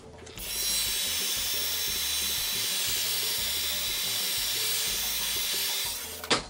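A heat gun blows steadily over tree of life wall art with mica powder, a loud continuous whirring hiss that runs unbroken for about six seconds before cutting off at the end.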